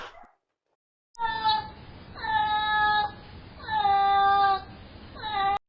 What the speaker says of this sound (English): We finally caught that cat that's always meowing outside late night